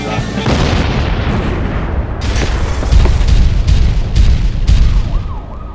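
Explosions in a trailer for a romantic drama, a series of heavy booms and bursts over a dense, loud roar, with several sharp blasts spaced through the stretch.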